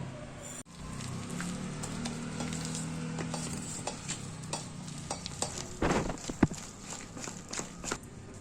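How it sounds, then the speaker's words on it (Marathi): Appe batter being stirred together with salt and asafoetida, a soft continuous scraping and sloshing in a bowl with a few louder knocks near the end, close and steady with no talking. "हे सर्व आपण मिक्स करून घेऊ"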